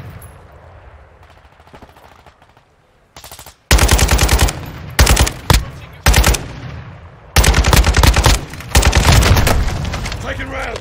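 Automatic gunfire from a Call of Duty Modern Warfare 2 multiplayer match on PC, loud bursts of rapid machine-gun fire in several rhythmic volleys separated by short gaps, after a quieter stretch with a voice talking under game noise.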